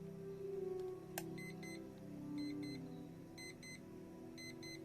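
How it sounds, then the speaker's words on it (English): An old alarm clock beeping in repeated short bursts of paired tones, moderately loud and near, over a steady low indoor hum. "I have to remember how to set the alarm."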